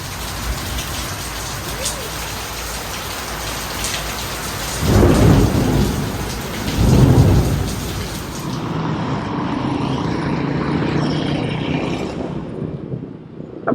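Heavy rainy-season rain pours steadily on the Puerto Vallarta Malecon, with two deep rolls of thunder rumbling loudly through the hiss.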